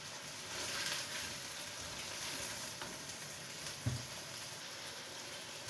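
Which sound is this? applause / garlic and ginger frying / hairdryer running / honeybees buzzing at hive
garlic and ginger frying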